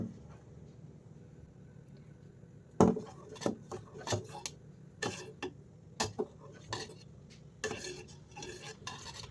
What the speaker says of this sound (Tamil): நான் வந்து இப்போ சிம்மில் தான் வச்சு நான் வந்து கிளறிட்டுருக்கேன்.